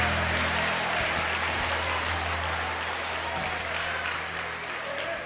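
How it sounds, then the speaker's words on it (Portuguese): A church congregation applauds during a Pentecostal preaching service, with dense, steady clapping filling the whole stretch at a loud level and easing off only slightly toward the end. "tome o seu assento aplaudindo a Jesus"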